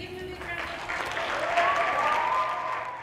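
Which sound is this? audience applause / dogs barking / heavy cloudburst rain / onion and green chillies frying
audience applause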